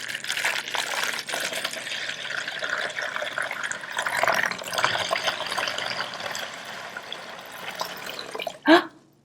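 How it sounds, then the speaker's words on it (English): Water pours continuously into a bowl like a waterfall, a loud, splashy rush that stays steady, then ends with a brief sharp knock or clink near the close. "While I'm pouring this water into this bowl, just like a waterfall"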